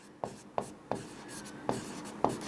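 A pen writes out a maths solution, heard close up as about six short, scratchy strokes at an uneven rhythm with quiet pauses between them.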